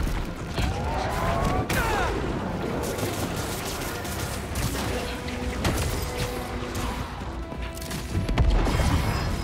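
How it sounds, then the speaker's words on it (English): Anti-venom bomb in Marvel's Spider-Man 2 set off amid a chaotic fight, sharp cracks, smashes and mechanical clanks in rapid bursts, with a heavy low boom near the end and faint game voices mixed in. "Anti-venom bomb"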